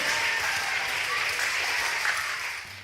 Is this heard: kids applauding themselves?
yes